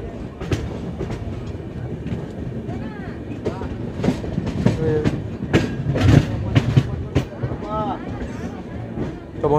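The Howrah–Bangalore SF Express rolls along the rails with a rhythmic clickety-clack and low rumble, the steel wheels squealing briefly, while people talk nearby in the carriage.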